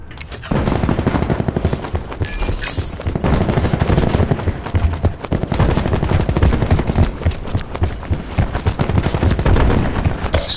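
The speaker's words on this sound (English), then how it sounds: "Firing sensor dart." Rapid, loud bursts of automatic-sounding fire from Call of Duty: Black Ops 4 as a sensor dart is launched, dense repeated cracks running almost continuously close up.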